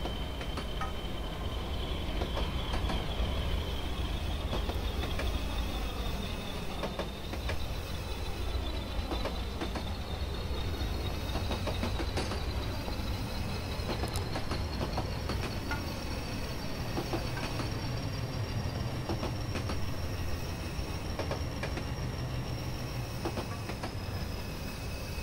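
An EMD-style PRR Baldwin RF-16 Sharknose diesel locomotive in Train Simulator on a Kentucky route, with a steady engine drone and rolling wheel noise as the throttle notches down, faint and continuous with no talk.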